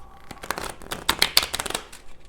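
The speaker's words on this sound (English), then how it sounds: "I'll shuffle the cards" Cards shuffled by hand, a rapid riffling flutter of paper with sharp clicks and bursts, close up and fairly loud, running throughout with no voices.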